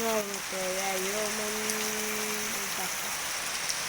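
Steady, dense monsoon rain hisses throughout in the hilly Konkan region, with a voice carrying over the downpour for the first few seconds.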